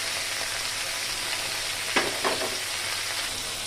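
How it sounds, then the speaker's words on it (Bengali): Okra (bhindi) frying in a pan gives an even, close sizzling hiss that runs the whole time, with two brief scrapes of a utensil near the middle. "আমি ভেন্ডিটাকে আর একটু ভেজে নেব"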